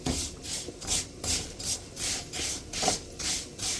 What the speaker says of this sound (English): I'm gonna take out the extra grease by putting the Fideo through a kitchen strainer.